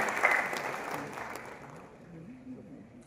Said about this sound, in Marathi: याबद्दल आपण एकदा टाळ्या वाजवून स्वागत करूया.